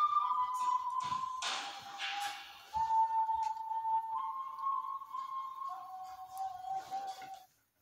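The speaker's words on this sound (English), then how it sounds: "why are you still whistling like that?" Someone whistles a wavering, sliding tune in long held notes, fairly close and alone, with a few taps and thumps scattered between the phrases.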